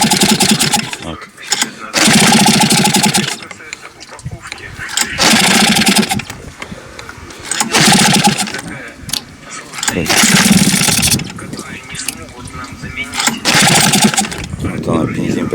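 A Hangkai 6.0 outboard motor is cranked repeatedly and sputters without catching, loud bursts of cranking alternating with quieter gaps where someone talks.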